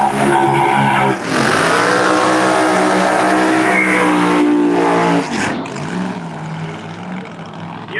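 Screw-blown Camaro ProMod drag cars roar down the strip in a loud, sustained engine howl with tire squeal, then the pitch drops and fades as they pass.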